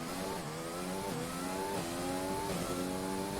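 Racing car engine in the F1 2020 video game revving hard through repeated upshifts, its pitch climbing and dropping in quick steps, loud and continuous with no voices.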